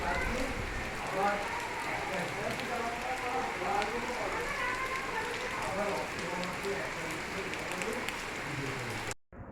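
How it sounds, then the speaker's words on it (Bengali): Steady dense hiss of heavy rain pouring down, with voices talking over it throughout and a sudden drop near the end. "প্রচুর পরিমাণে বৃষ্টি হচ্ছে"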